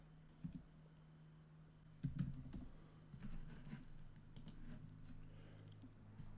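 Typing on a computer keyboard, close and fairly quiet, with short bursts of key clicks separated by pauses over a low steady hum.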